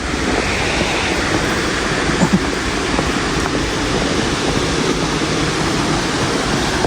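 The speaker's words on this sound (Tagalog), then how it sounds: "Ang tawag dito sa kanya ay Shiraito no Taki Waterfalls." Shiraito no Taki waterfall in Japan roars as a loud, steady broadband rush of falling water, continuous and close with no voices.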